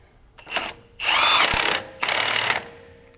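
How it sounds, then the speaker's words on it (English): An impact-style power tool tightening a piston bolt on an HP20T4 pump, a short blip then two loud close bursts of whirring, each about half a second to a second long, with no talk. "go ahead and tighten up the piston bolt"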